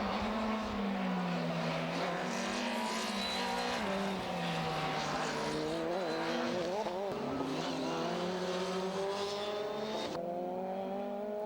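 Formula Renault race cars cross the line at the end of a race, high engine notes rising and falling as the cars pass one after another. The cars are loud and close.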